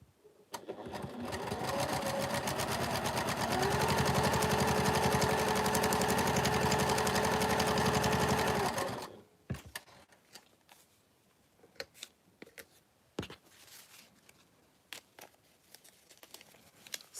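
A sewing machine stitches quilt fabric for a Christmas wall hanging in one loud, steady run of about nine seconds, then stops, leaving scattered clicks and fabric handling.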